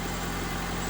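A 2004 Honda Civic EX engine idles after a head gasket change, a steady, even hum that holds without variation through the short stretch.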